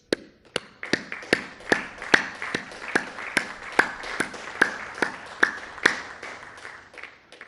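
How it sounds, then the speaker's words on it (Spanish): Applause for migrant compatriots at an outdoor public event in a hurricane-hit town in Nayarit, heard as a run of sharp, evenly spaced claps rising from a moderately distant crowd. "Un aplauso a nuestros paisanos migrantes."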